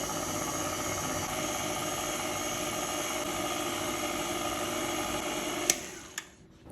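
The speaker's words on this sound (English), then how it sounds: "add in that chilled base and churn according to my machine's directions until it looks like soft" An ice cream machine churns a chilled vanilla bean base with a steady mechanical whir and hum that holds constant, then cuts off near the end with a couple of clicks and a brief knock.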